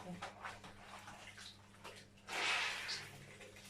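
A cloth is dipped into water to wet it while cleaning glass; a short burst of sloshing, splashing water rises over soft background noise, with speech nearby.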